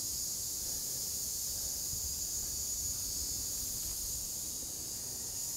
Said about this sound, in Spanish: el sonido de las cigarras.